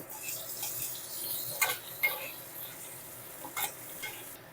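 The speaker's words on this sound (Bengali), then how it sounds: "একই রকমভাবে সব ঢ্যাঁড়সগুলোই আমি ভেজে নেব" Okra frying in hot oil, a soft continuous sizzle broken by a few sharp scrapes and clinks of a spatula against the pan.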